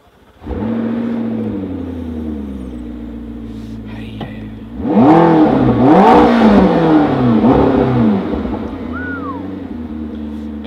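A McLaren 12C Spider, the MP4-12C convertible, heard from inside the cabin as the engine cranks and catches into a steady idle, then several sharp rising revs before settling back down, loud and close.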